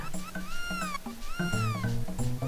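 Several cats in the Chrono Trigger video game meow repeatedly, overlapping rising and falling cries that sound loud and close with no talk.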